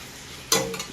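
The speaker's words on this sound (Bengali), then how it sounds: "ভাত ভাজা" Rice is stir-fried in a pan: a single short burst of sizzling and scraping rises from quiet, close and fairly loud.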